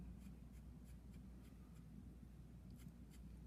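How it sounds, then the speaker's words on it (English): A charcoal pencil moves across velour paper in a faint, soft, continuous scratching, with light repeated strokes close to the listener. "I'll just use my charcoal pencil"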